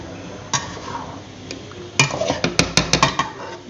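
A spoon stirs white sauce pasta in a pot, giving a few soft scrapes and then a quick run of sharp metallic clinks and taps against the pot's side, close and clear with no talk.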